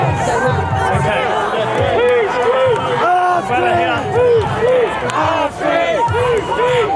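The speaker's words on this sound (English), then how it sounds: "Everyone's screaming, yelling." A large protest crowd outside a London migrant hotel screams and yells continuously, many voices shouting and chanting at close range in a dense, agitated roar.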